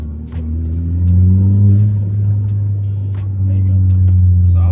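Manual Audi A4 B7 engine rumbling loudly from inside the cabin as the driver downshifts, revs rising and settling in a steady low drone with a brief dip, close and continuous.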